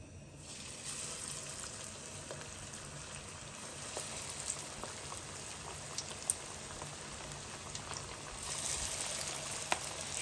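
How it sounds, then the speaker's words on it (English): A soft, steady sizzle of shrimp frying in hot oil, with scattered crackles and pops throughout and no talking. "Make sure oil is nice and hot. See, it's bubbling. All right, ready to go. Let's start frying."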